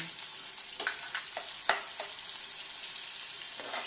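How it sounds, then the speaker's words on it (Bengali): Garlic with green chilies fries in oil for a fenugreek and catla fish dish, a steady sizzle punctuated by a few spatula scrapes and taps, heard up close. "এইটা ভালো করে ভাজবো যতক্ষণ না খুব সুন্দর একটা গন্ধ বেরিয়ে"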